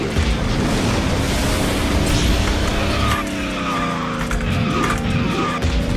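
Karts drifting and skidding around a track in KartRider, with sustained tire screeching layered over steady engine whine, loud and continuous throughout with wavering pitch.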